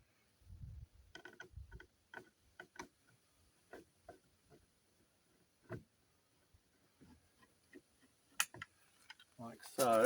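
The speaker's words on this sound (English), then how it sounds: "take that reflector off, which someone screwed in hideously. Just a couple of Phillips screws." Phillips screws being undone from a reflector on a VW T5 van, heard as a sparse series of quiet, sharp ticks and clicks spaced irregularly in a quiet setting, ending with a louder rattling scrape.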